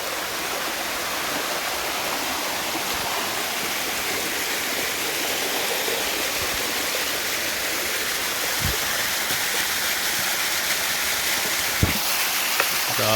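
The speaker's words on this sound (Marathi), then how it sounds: "इथे आला छोटासा वॉटरफॉल आहे बघा" A small waterfall in the middle of a forest splashes in a steady, even hiss of falling water, moderately loud, with a couple of faint knocks near the end.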